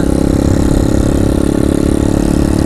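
A Yamaha RZ 120 motorcycle engine idles steadily and close, a continuous mid-to-low rumble with a dense, even throb and no voices.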